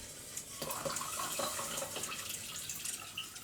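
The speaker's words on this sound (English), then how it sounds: "the rest of the water will be cold water, and it can be water from your tap" Cold tap water runs from a faucet into a container, a soft steady splashing stream with slight shifts as it fills, quiet and close.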